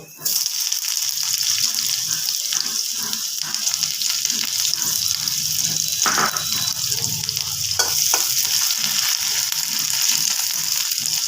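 Sliced onion sizzles steadily in hot oil with black cumin (kalo jeere) for a boal fish curry, a loud, close, continuous crackling hiss with faint stirring scrapes and no clear talk.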